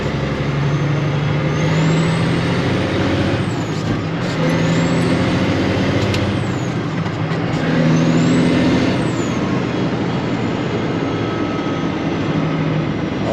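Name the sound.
air ride truck and trailer driving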